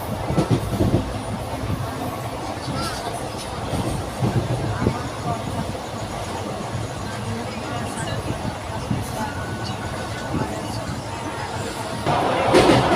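A moving train between Sangli and Mumbai rumbles and clatters steadily throughout, with voices talking beneath the constant rolling noise.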